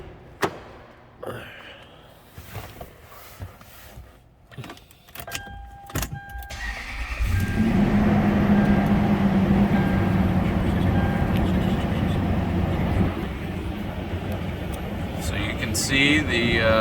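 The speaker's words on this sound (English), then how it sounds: "I'm going to do a quick cold start for you" A Lexus LX470 cold-starts after a few quiet clicks and knocks in the cabin. The engine catches about halfway through, then settles into a steady, fairly loud idle rumble.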